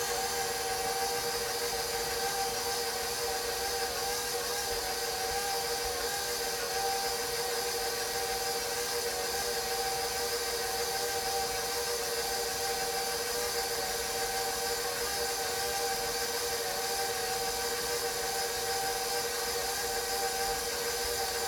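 A stand mixer whirs steadily, blending sugars for salted caramel chocolate chip cookie dough made with coconut oil, its continuous motor drone and hum filling the whole stretch with no talking.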